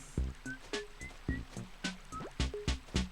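Flowing water in the Animal Crossing game, a light stream trickling and splashing under a series of bright chiming game tones that pop in a loose rhythm.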